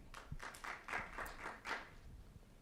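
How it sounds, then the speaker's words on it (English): Brief round of applause from a meeting audience at a C20 South Africa policy finalisation session, a few seconds of scattered clapping at moderate level with no talk over it. "Round of applause for that."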